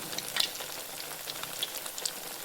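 Fasting vada frying in oil, a soft steady sizzle with scattered small crackles and a few sharper pops as the batter bursts, close and moderately quiet.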